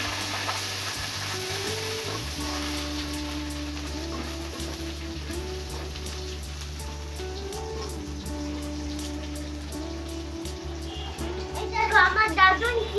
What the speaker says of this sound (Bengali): এখন আবার সবগুলো একসাথে ভেজে নিয়ে নিচ্ছে।